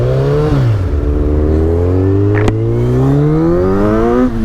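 A Kawasaki sport motorcycle engine revs hard and close, its pitch dropping briefly after a shift and then climbing steadily as it pulls, loud and continuous with no talk.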